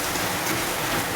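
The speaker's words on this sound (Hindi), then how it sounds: "इतनी बारिश हो रही है ना कि क्या बताओ, बाप रे बाप, बहुत बारिश हो रही है" Heavy rain pours in Mumbai as a loud, dense, unbroken roar of water on surfaces, with no speech during it.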